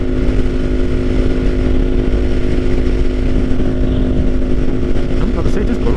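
A 2024 Kawasaki Ninja 500 KRT SE hums steadily and loudly on an open road, a constant engine drone with wind rush that continues unbroken throughout while the rider talks.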